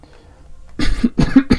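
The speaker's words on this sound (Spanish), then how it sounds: "Perdón, todavía sigo afectado por la tos." A few short, harsh coughs from a man with a lingering cough burst out close by after a brief near-silent pause, each one sharp and throaty.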